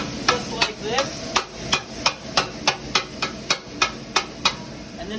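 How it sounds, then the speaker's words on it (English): A metal scraper chops seasoned steak on a hot griddle for a cheesesteak, a steady run of about fifteen sharp metallic clacks at an even quick rhythm over a constant sizzle, close and loud. "you're going to take your scraper. You want to chop up the meat a little bit, just like this"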